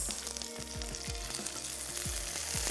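Cabbage and mixed vegetables sizzle steadily in a pan while being stirred, a continuous close frying hiss with occasional scrapes, no talking.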